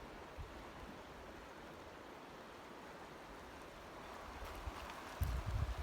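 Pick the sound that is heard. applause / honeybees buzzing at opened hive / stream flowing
stream flowing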